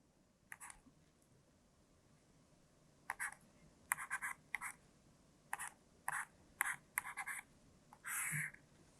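Marker or chalk scratches on a board during a maths lesson, coming in short separate strokes and bursts with pauses between them, close and fairly quiet, with no talk.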